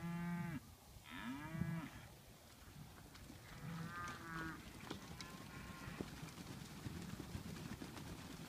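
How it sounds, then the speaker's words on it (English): Santa Gertrudis and Brangus bred heifers mooing outdoors on a Texas ranch near Uvalde, several long drawn-out calls in the first half, some close and some farther, over breezy background noise. "I really like these cattle"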